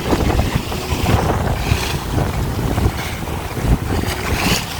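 Rough tidal water churns in the Sundarbans, a loud, constant wash of waves and wind buffeting the microphone, with irregular slaps and thumps of water near a boat.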